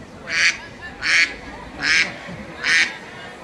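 A duck serving as a live chess piece quacks four times at steady intervals, each call loud, nasal and close, over faint background noise.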